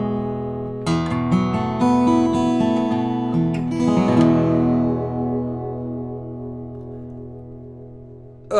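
Custom luthier-built guitar played solo, with ringing plucked notes and chords that sustain and slowly fade, close and clear with no talking.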